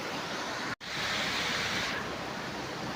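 Steady, even rushing of a river current at a bamboo hideout, a broad hiss that runs unbroken except for a split-second dropout near the start.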